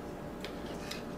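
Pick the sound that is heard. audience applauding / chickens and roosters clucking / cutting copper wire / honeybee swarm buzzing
cutting copper wire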